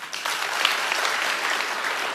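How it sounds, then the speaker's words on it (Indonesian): Loud applause from an Indonesian church congregation during a sermon: a dense, steady roar of clapping filling the hall from the first moment, close and strong throughout, with no talking over it. "tepuk tangan yang keras."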